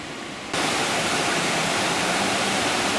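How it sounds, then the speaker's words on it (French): Charentonne river in Bernay, Eure, rushing continuously and fairly loud up close; a quieter moment gives way abruptly to a full, unbroken roar of flowing water. "On perçoit le bruit de la rivière."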